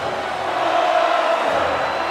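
Wrestling arena crowd in WWE 2K22 cheering for an entrance on Raw, a dense, steady roar of many voices with a sustained whoop rising in the middle, loud and continuous throughout.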